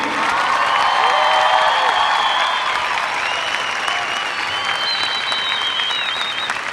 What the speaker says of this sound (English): please give a big round of applause for the mighty Martin High School class of 2014